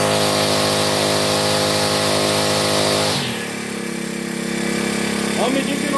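Toyama TBC40 four-stroke brush cutter engine runs steadily at high revs for about three seconds, then drops to a lower, quieter idle hum.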